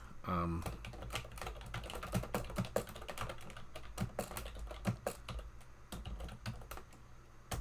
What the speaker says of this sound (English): You like my noisy keyboard?